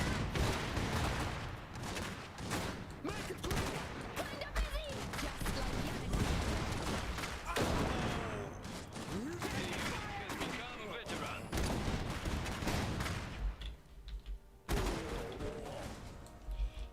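Gunfire from units in the Iron Harvest strategy game: rapid bursts of shots and crackling volleys throughout, fairly quiet and under frequent unit voice lines.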